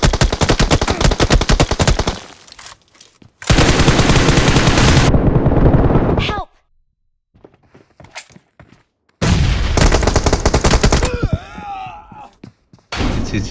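Loud bursts of automatic gunfire from a shooting video game come in long sustained volleys separated by quiet gaps, with scattered single shots and faint groans mixed in.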